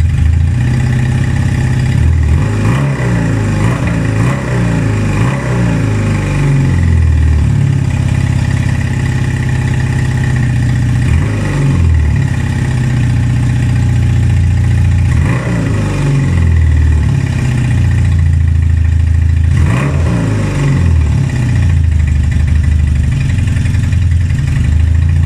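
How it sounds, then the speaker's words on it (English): A 1978 Honda CB250 Twin motorcycle engine idles steadily, then revs up and drops back in four short throttle blips spread over the clip. The engine is close and alone, with no talk. "Right now I'm able to give it some revs."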